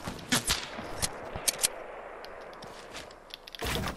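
Semi-auto rifle fire in Fortnite cracks out as several separate sharp shots, some in quick pairs and some spaced apart, over quiet game ambience, followed by a denser burst of noise at the end.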